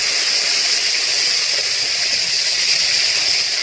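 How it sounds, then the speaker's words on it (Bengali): Chopped tomato goes into frying onions for a fish curry with potato and cauliflower, raising a loud, steady, unbroken sizzle with no talk. "এবার আমি টমেটো কুচি দিয়ে দিচ্ছি"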